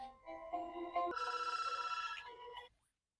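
A phone ringtone plays alone, a bright electronic melody with rapid pulsing tones that stops abruptly after a few seconds.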